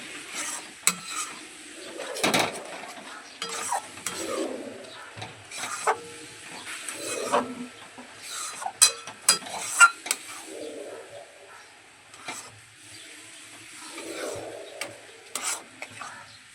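Semolina mixed with about two bowls of water being stirred in a pot, soft scraping and swishing strokes with occasional clinks of the spoon against the metal, quiet and irregular with no talking.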